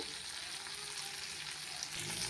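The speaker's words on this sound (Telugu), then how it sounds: "ఇంక ఇక్కడ వచ్చేసి పల్లీలు కూడా వేగిపోయాయి" Peanuts fry in a pan, filling the clip with a constant, soft, even sizzle and faint stirring, close and alone without any voices.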